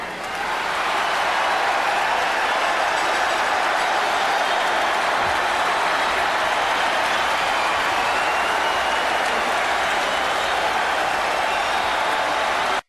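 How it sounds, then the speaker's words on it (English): A large arena crowd at Nassau Coliseum during WrestleMania 2 cheers and applauds for the ring timekeeper, a loud, sustained roar of clapping and shouting that holds steady for the whole stretch. "the crowd at the Nassau Coliseum, they are going absolutely nuts for Herb"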